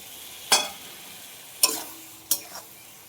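Eggplant sautéing in a pan with ground mustard and poppy seed paste, three distinct scraping stirs with a spatula over a quiet background sizzle, close and moderately loud with no talking.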